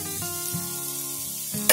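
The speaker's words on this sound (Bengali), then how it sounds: "খুব ভালো করে মশলার সঙ্গে এগুলো কষে নিচ্ছি" Potato pieces and spices fry in a hot pan, giving a steady close sizzle throughout with a brief louder hiss near the end.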